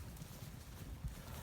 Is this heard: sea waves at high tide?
no